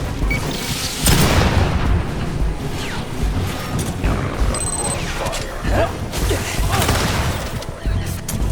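A grenade blast in the video game Aliens: Fireteam Elite 2: a loud, heavy boom bursts out early and is followed by sustained combat noise, rumbling impacts and scattered gunfire.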